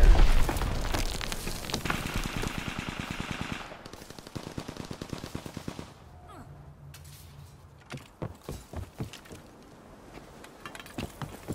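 Rapid bursts of Sten SMG fire in Call of Duty WW2 crack loud and close, followed by scattered single shots, mechanical clatter and reload clicks as the firing tapers off.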